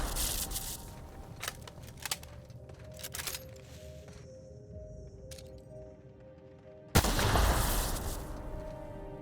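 Gunfire in The Outer Worlds video game, with sharp shots scattered through the opening seconds and a heavy, loud blast near the end.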